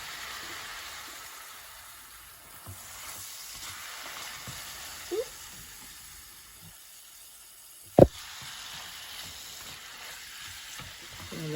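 Partly frozen ground beef browns in a pan with a steady, soft sizzle and hiss throughout, broken by a couple of sharp knocks around the middle.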